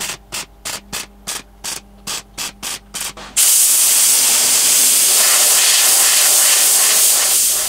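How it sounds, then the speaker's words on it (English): Aerosol can of cold galvanizing paint sprayed onto welded patch panels of a 1970s FJ45 Toyota Landcruiser body: a run of eight short rhythmic bursts, then one long steady loud hiss held close. "Now I'll just hit it with a light dusting of some cold gal paint just so it doesn't flash rust on me."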